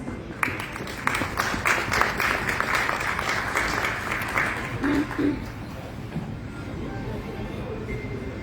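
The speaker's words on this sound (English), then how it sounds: "Can we please give her a huge round of applause?" Audience applause at a gathering with a Union Minister of Information and Broadcasting and Tollywood stars, a broad moderate clatter of many hands that fades away after about six seconds, with faint voices underneath.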